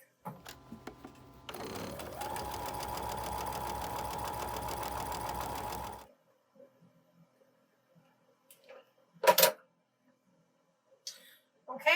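A sewing machine stitching fabric pieces together for a quilt block, a steady mechanical hum of about four seconds, followed by quiet handling noises and a faint voice.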